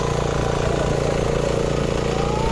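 A tractor engine chugs steadily at close range in a rice paddy field during planting, a low rumble with a regular throbbing rhythm and no voices.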